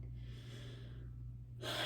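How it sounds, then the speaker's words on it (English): A person breathing hard, a sharp audible gasp followed by a forceful exhaled breath, close and alone with no talk. "But I'm breathing hard"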